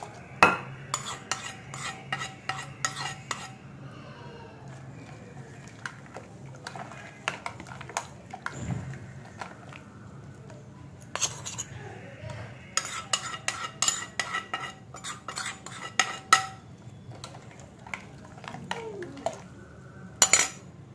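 A spoon stirs cooled tempering into buttermilk rasam in a steel vessel, making bursts of rapid clinking and scraping that alternate with quieter pauses.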